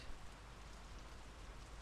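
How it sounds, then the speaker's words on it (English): Steady rain in the video game Draugen, a dense continuous hiss of falling drops that stays even and fairly close throughout, with no voices. "The rain's picking up."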